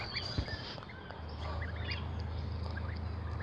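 Hens in a Normandy poultry yard, with scattered soft clucks and calls at a moderate distance over a steady low rumble, no talking.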